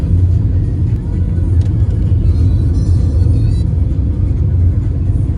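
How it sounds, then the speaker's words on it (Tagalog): Steady low road rumble of traffic heard from inside a car heading to the airport, a continuous loud engine and tyre drone with no clear breaks. "Traffic."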